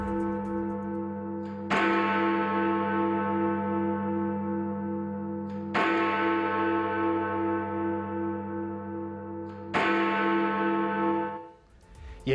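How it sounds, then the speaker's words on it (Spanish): Big Ben, the large bell at the Palace of Westminster in London, tolls three times at slow, even intervals, each strike ringing out with a long, resonant hum that decays before the next. "este mediodía en Londres sonaron por última vez las campanas del Big Ben"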